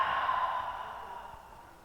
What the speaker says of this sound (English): and exhale, let it out.